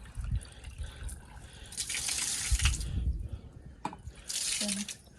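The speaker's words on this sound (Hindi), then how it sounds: "अब चलो मैं आ रही हूँ हाथ में धो के" Hands washed with water outdoors in a village: intermittent splashing and pouring of water in bursts, with a few brief gaps between them.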